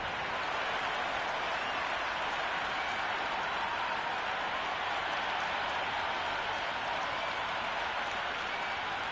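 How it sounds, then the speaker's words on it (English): Dense stadium crowd cheering at a cricket match in the video game Cricket 26 on PS5, a steady, loud wash of applause and crowd roar that holds unbroken throughout. "the ball hasn't even been bowled yet, and this crowd is already making it hard for me to be heard"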